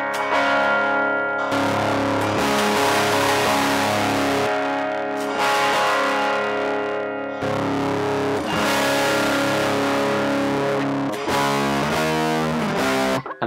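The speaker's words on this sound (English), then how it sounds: "So you've got the Big Muff pedal put in there, so we can go through that and just see what each of these sound like." Heavily fuzzed electric guitar through a TONEX model of a Big Muff fuzz pedal, thick saturated sustained chords with a dense buzzy wash, played loud and continuously with short strummed figures near the end.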